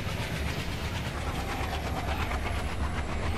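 A train running on rails in a train simulator game, on the Brahmaputra Mail route from Dibrugarh to Old Delhi: a steady loud rumble with rhythmic clickety-clack of wheels over rail joints, continuous throughout.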